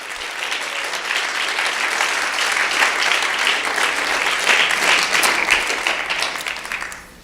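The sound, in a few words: applause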